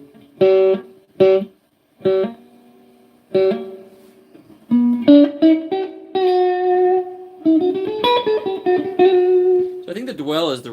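An amplified electric guitar with Hall of Fame digital spring reverb plays short chord stabs, then longer ringing phrases and bends, loud and close, with splashy reverb tails between the stabs.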